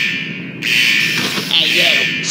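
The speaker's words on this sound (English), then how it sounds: "Looks like he set off some sort of alarm." In the video game Henry Stickmin, an alarm rings as a loud, steady high-pitched electronic buzzing tone that starts abruptly and keeps sounding while a voice talks over it.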